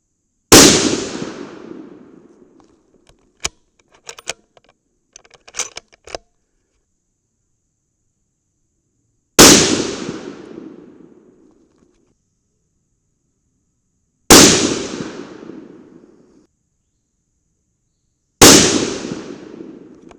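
.308 Winchester rifle shots with 150gr Sierra Game King bullets over Winchester 748 powder: four loud booming cracks spaced several seconds apart, each trailing off in a long echo, with a cluster of small metallic clicks after the first.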